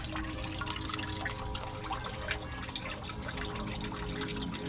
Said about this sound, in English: The water comes out of the swirler, hits the sump.